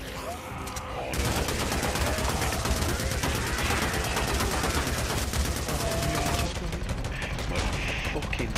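Sustained rapid automatic gunfire in a video game, a dense loud stream of shots lasting several seconds, briefly broken then resuming, with a voice talking faintly underneath.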